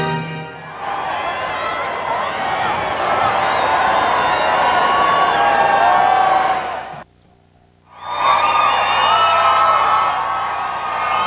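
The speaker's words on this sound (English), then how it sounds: "This is part of the great New Year's crowd gathered here outside the Treasure Island Hotel." A large New Year's crowd outside the Treasure Island Hotel in Las Vegas cheers and whoops loudly in a sustained roar, breaking off briefly before surging again.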